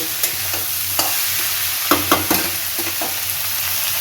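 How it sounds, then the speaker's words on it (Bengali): A spoon stirs pumpkin greens, potato and eggplant curry with added sugar in a hot pan, giving several distinct scraping strokes over a steady close sizzle, with no talking. "এই যে দিলাম চিনিটা একটু নেড়ে দিই"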